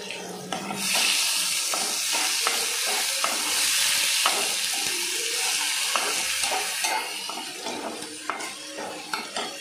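Onion paste sizzling in a pan after salt is added, a steady loud hiss with repeated scraping and clicking of a stirring spoon throughout, no voices.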